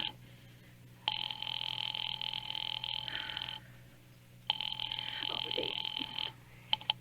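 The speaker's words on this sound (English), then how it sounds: "Ringing the police department." A telephone rings in a radio thriller, two long electric bell bursts separated by a pause, clear and fairly loud against a quiet hum.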